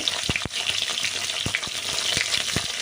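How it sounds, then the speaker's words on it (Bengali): Pointed gourd sizzles and crackles steadily in hot oil, with several sharp clacks of stirring scattered throughout. "ব্যাস এবার দিয়ে দিলাম ভাজা শুরু একবারেই দিলাম সব কটা"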